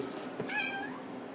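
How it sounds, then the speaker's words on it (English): A cat gives a single short meow, fairly faint and alone in a quiet room. "That was a kitty."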